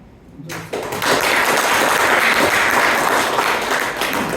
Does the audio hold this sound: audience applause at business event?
yes